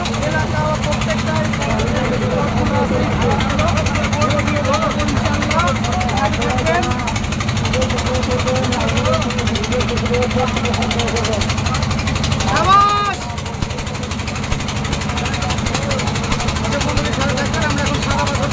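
A boat engine drones steadily and loudly on a river trip to Sada Pathor in Sylhet, with a voice talking over the continuous rumble throughout.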